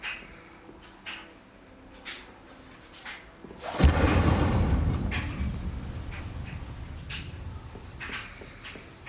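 The Incendio fire spell from Hogwarts Legacy erupts in a sudden loud whoosh and burst of flame, roaring briefly and then tapering off into crackling, with quieter clicks and soft ambient sounds before it.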